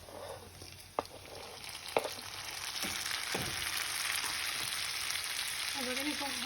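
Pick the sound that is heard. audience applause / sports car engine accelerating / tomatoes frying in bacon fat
tomatoes frying in bacon fat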